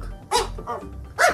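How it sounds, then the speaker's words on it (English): A dog barks twice, sharp and fairly close, with a short pause between the barks and no talking. "That was Mr. Toots the dog."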